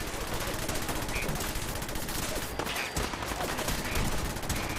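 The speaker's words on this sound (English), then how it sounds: "let me do the cannons again" Cannons aboard the USS Constitution in Fallout 4 fire in a dense, continuous barrage of booming blasts, loud and relentless with no pause.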